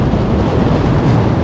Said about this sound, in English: It's just too crazy windy out here.